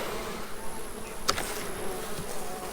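Honey bees buzz steadily around an open hive box during a honey harvest, a dense close hum with a brief sharp tap midway.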